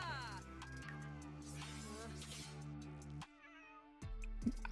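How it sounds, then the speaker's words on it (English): Cats meowing in a life-simulation game, heard as several meows over a bed of game music. The music drops out briefly near the end. "What are these cats doing at my home?"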